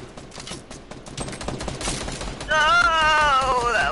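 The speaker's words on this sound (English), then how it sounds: "Whoa, someone's shooting at you!" Rapid bursts of video game gunfire crackle through a busy, dense game soundscape, with loud sustained shooting and tonal effects swelling in the final stretch.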